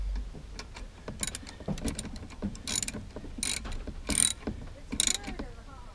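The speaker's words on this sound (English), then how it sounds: "Torque it down where it won't come loose." Ratcheting clicks from a wrench cinching down a bolt and washer on a Champion generator, heard in several short close bursts with pauses between, no talk.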